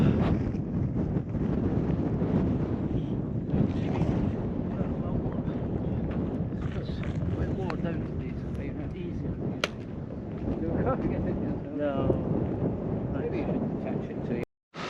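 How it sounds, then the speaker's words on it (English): Breeze buffeting the microphone on an exposed hilltop trail along the Affric Kintail Way, a steady rumbling gust that persists throughout and drops out briefly at the very end. "A wee bit of a breeze up here thankfully"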